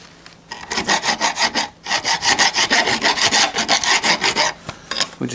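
A hand file rasps back and forth over the burred edges of bolt holes on a Bomford hedge trimmer, about twenty quick, even strokes in two bursts separated by a short pause, close and clear with no talking.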